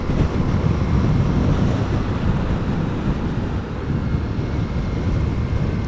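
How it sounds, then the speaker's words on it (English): Wind roars over a Ducati motorcycle during a ride on a very windy day, a loud, steady, low rumbling buffet that continues without a break and with no talking. "It's really windy right now"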